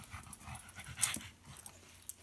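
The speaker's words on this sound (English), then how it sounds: "The doggy." A puppy panting and whimpering up close, soft breathy huffs with a few thin whines, quiet and without talk.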